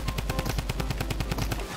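Rapid bursts of machine gun fire in a video game, a fast rhythmic stream of loud close shots with a deep low thump running under them for nearly two seconds.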